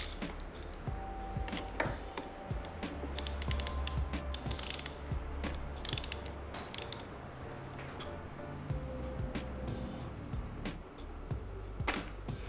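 A ratchet clicks and ratchets repeatedly while loosening a bolt on an Aprilia RS660 motorcycle, close and clear, with metallic tool clinks and handling noises mixed in.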